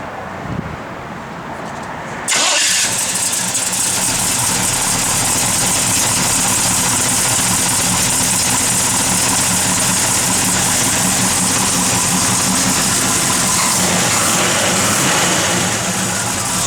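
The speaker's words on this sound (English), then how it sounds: "Good running big block, just a mild cam, nothing crazy" A 1969 Chevrolet Chevelle SS big block with a mild cam cranks and fires after about two seconds, then settles into a loud, steady, close-up idle with a throbbing low rumble and no talking.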